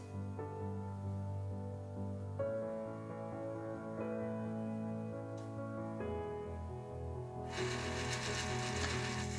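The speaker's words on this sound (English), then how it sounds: "I'll go back to low, and we'll see the auger not drive quite as often." A Whitfield Advantage II-T pellet stove runs with steady mechanical whirring and tonal hum from its auger drive and fans, the pitch shifting in steps and a burst of hiss entering near the end.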